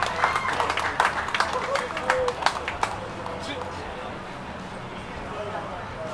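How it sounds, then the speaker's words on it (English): Crowd applause for the owner of a 2022 Harley-Davidson Road King at a Harley-Davidson bike show award ceremony: dense clapping for about three seconds, then thinning out under a voice on the PA. "Y'all give him a round of applause."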